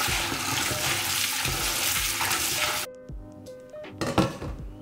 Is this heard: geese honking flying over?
no